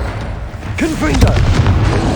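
A Confringo blasting spell bursts in Hogwarts Legacy, a loud booming explosion with crackling streaks over a steady low rumble, heard alongside voice sounds.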